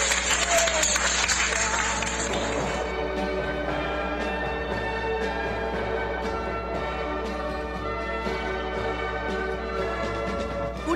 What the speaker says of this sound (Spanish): Un aplauso cerrado para los humildes héroes de estos días difíciles.